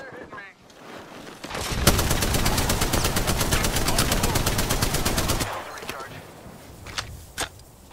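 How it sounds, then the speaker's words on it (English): Rapid automatic gunfire in a video game fires as a long, evenly spaced burst of sharp shots lasting several seconds, then gives way to quieter footsteps and a couple of isolated reports. "Shots fired, and they're hitting me"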